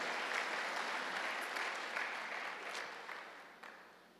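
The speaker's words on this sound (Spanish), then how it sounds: "Dale un aplauso a Dios de alabanza, de gratitud, de exaltación" Congregation applauding in a church service, a dense wash of clapping that is loud at first and slowly fades over a few seconds, with no talk over it.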